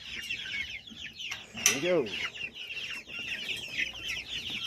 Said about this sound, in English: let's liberate the hens